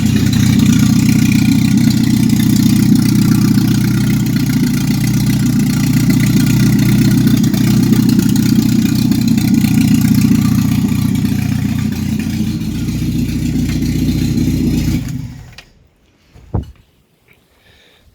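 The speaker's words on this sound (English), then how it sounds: "So really loud because I've got no exhaust. It's just coming straight out the manifold there." A Ford MK2 Escort engine idles loud and steady with no exhaust fitted, firing straight out of the manifold, a deep continuous rumble that runs for about fifteen seconds before cutting out, followed by a brief knock.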